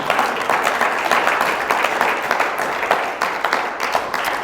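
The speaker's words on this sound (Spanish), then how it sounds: "Fuerte el aplauso al Señor." A congregation in a church breaks into loud, sustained applause, dense clapping from many hands filling the space evenly with a faint voice beneath.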